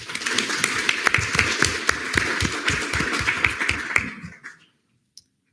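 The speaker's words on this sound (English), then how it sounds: "We can clap for that." A small room of students at a student government senate meeting claps together, brisk close applause for about four seconds that thins out and stops, then silence.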